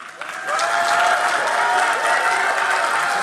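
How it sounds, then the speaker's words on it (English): A home crowd at the 2013 League of Legends World Championship quarterfinal (Fnatic vs Cloud 9) applauds loudly and steadily, a dense wash of clapping that swells in after a moment and carries on. "An applause here for the home crowd."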